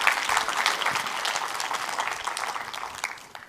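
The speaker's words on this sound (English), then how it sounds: "Give Michael a round of applause." Audience applause fills a church service, a steady wash of clapping from a crowd that holds for a few seconds and then thins out toward the end.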